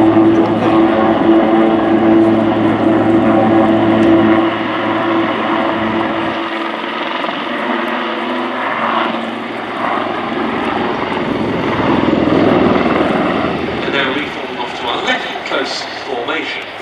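Royal Navy Wildcat helicopters of the Black Cats display team at RIAT 2024 roar steadily overhead through climbs and nose-overs, a loud continuous rotor and engine drone with a commentator talking throughout.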